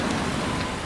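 Steady rain hisses evenly on surfaces for a brief moment, with no talk over it.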